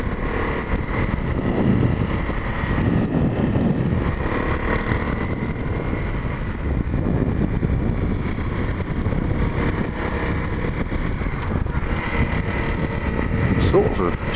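A Honda CRF250L motorcycle's quiet engine putters at low revs on an off-road ride, a soft rumble under wind buffeting while someone talks almost continuously.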